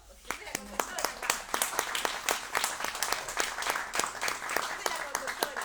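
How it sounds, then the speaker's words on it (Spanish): An audience at a bookstore talk claps warmly in continuous, moderately loud applause, with many hands making dense overlapping claps that hold steady throughout, and no speech rising above it. "para quien pido un aplauso"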